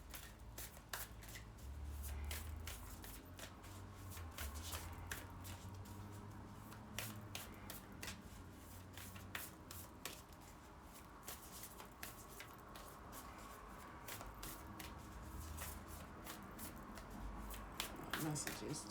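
Tarot cards are shuffled in a steady, close-up run of papery riffles and slaps while a person talks throughout.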